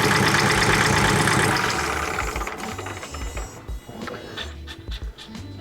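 A Kioti CK3510SE compact tractor's engine runs loudly at first, then winds down and shuts off, leaving sputtering knocks and a few irregular thumps.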